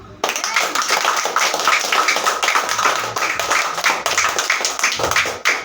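A church congregation claps loudly in praise to God, producing a continuous, vigorous wall of close, sharp hand claps that holds steady for several seconds.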